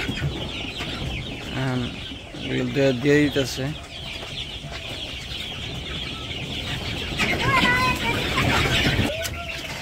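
Farmyard chickens clucking and calling at feeding time inside a village coop, several birds with overlapping clucks and squawks, close and moderately loud, with a person talking over them.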